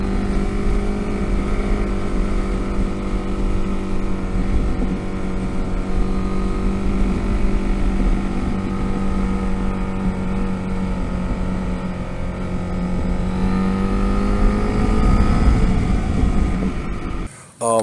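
A Suzuki Katana 750 motorcycle with a D&D exhaust runs steadily, a loud, continuous engine drone with layered tones that swell slightly toward the end before cutting off abruptly.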